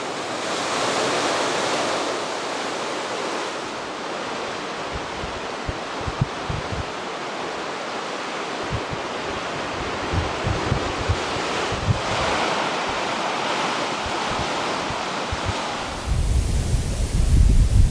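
Ocean waves break continuously on a coastline, a loud dense roar of surf with wind buffeting the microphone, with no voices and a stronger gust of wind rumble at the very end.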